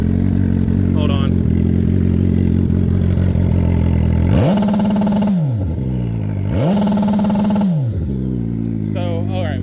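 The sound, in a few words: turbo 2008 Suzuki Hayabusa GSX1300R engine revving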